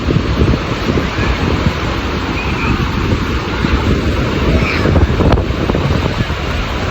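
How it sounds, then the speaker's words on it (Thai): Night wind sweeps across Bang Saen beach in Thailand, a loud, constant roaring rush with surf washing underneath and no clear voices. "โอ้ลมเย็นดีครับ"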